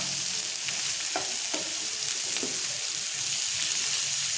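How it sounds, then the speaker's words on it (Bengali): Chickpeas and onion sizzle steadily in a hot pan while a wooden spatula stirs them, giving a constant frying hiss broken by several soft scraping knocks at irregular intervals, close and fairly quiet with no talking. "এখন আমি কাঠের চটি দিয়ে এটাকে নেড়ে দিচ্ছি।"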